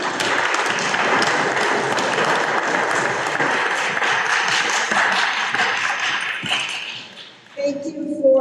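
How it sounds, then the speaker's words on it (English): An audience claps for a community panel at a parenting event, dense sustained applause filling the room for several seconds before tapering off near the end. "Can we have a round of applause for our panel?"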